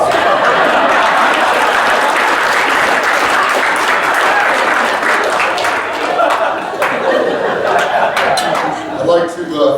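Sustained loud applause from a crowd at a university Hall of Fame induction ceremony, dense clapping filling the whole stretch and easing slightly toward the end.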